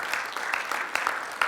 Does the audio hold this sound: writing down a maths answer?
no